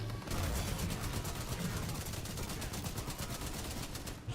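Rapid automatic gunfire in the video game Titanfall 2, loud and close, as a dense continuous stream of shots that runs without pause through the whole stretch.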